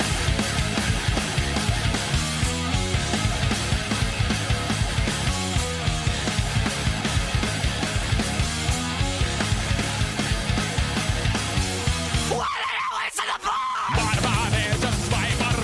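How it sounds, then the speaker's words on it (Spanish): A loud, dense rock passage with a driving electric guitar riff over drums, continuous and full, briefly dropping out near the end before resuming. "Lo primero que comienza en esa canción es un riff de guitarra."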